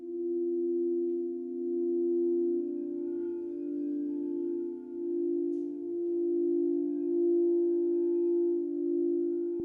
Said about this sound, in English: I have some crystal sound bowls that we're going to be playing